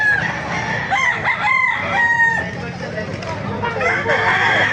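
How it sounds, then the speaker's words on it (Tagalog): Roosters crow repeatedly and chickens cluck in a busy, loud chorus at a poultry market in Baliwag, Bulacan, with overlapping calls near and far and faint crowd murmur underneath. "Tayo mga manok dito."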